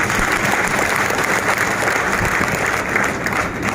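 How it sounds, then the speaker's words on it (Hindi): A steady wash of applause from a crowd at an RCM business seminar in Gorakhpur, continuous and fairly loud throughout. "तो सर के लिए जोरदार ताली बजा दीजिए"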